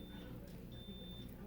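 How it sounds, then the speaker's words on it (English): A thin electronic beep tone sounds near a toy train, faint and held, with a short break partway, over low background noise and a voice. "Do you hear the beep beep?"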